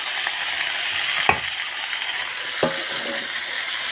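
Onion frying in a pan with potatoes and spices, giving a constant loud close sizzle with two sharp spoon knocks against the pan.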